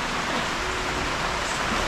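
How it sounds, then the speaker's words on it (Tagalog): Steady rain falls on a surface, a dense, even hiss that holds at the same level throughout, with no voices over it. "Umuulan na naman."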